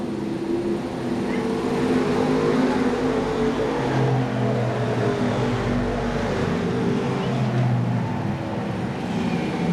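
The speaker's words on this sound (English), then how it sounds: "a lot of slipping and sliding going on as they get around up behind Todd Henshaw" Stock cars racing at Seekonk Speedway in 1994 make a steady, continuous roar of engines that holds loud for the whole stretch without a break.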